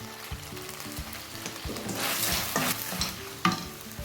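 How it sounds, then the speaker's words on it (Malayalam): Vegetable mixture with soy sauce and other sauces is stirred in a frying pan, a steady sizzle with repeated scraping strokes of the spoon, close and moderately loud, with no talking. "എല്ലാം കൂട്ടിയിട്ട് നന്നായിട്ടൊന്ന് മിക്സ് ചെയ്ത് കൊടുക്കണം."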